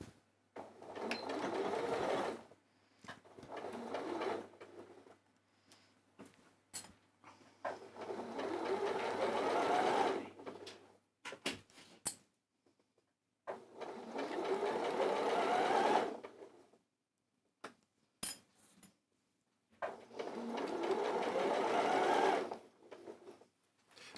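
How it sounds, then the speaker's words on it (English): A sewing machine stitching 1.5 cm seams on dress fabric runs in four long bursts separated by short pauses and small clicks, steady and close, with no talking. "I'm just going to stitch them down"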